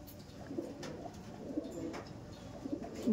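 Soft, low coos from round-headed Kasma Dom pigeons repeat a few times at a gentle pace, close but quiet, over a faint steady background noise.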